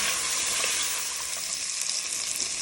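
Carrots sizzle steadily in melted butter in a pan, a constant close hiss and crackle with small pops and no voices.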